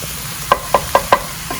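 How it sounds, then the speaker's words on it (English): Sausage cooking in a pan is broken up with a utensil, producing four sharp, evenly spaced clacks against the pan over a quiet, steady sizzle, close up and without speech. "as it's cooking, I'm going to chop it up so it's a nice ground up sausage"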